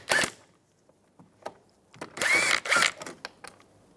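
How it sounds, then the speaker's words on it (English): A 10mm socket on a ratchet backs out a screw inside the rear door of a 2007-2013 Chevrolet Silverado, giving a few short clicking ratchet bursts and light mechanical rattles, close and alone. "Now we're going to remove that screw."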